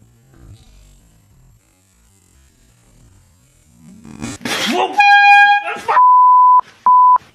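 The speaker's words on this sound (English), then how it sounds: "This is a air horn." An air horn blasts loud and close in several bursts, a long steady tone followed by shorter sharp honks, coming right after a brief noisy rustle.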